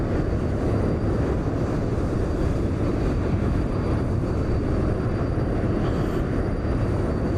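A private jet in Microsoft Flight Simulator 2020 at Frankfurt airport gives a loud, steady broadband engine roar with a faint high whine above it, holding constant throughout with no speech.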